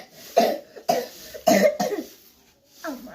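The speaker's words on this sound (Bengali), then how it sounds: "কাশি হয়েছে" Four or five harsh coughs come close to the mic in quick bursts with short gaps, trailing off into a weaker final cough.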